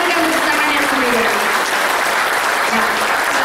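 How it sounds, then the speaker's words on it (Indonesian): An audience claps loudly and steadily at the opening ceremony of a 2014 regional church camp. The dense, even applause fills the whole stretch with no pause. "Mari kita berikan tepuk tangan yang meriah."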